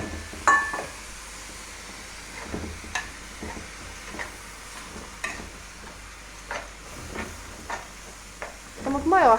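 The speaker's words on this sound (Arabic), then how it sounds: "الرز قلبناه في الجزر والبصل" Rice stirred in a pot with carrots and onions, a spoon scraping and clinking against the metal in repeated strokes over a soft sizzle, close and fairly loud.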